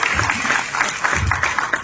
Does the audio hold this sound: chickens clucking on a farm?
no